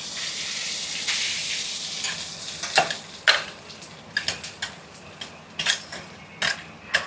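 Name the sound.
grated coconut frying in hot ghee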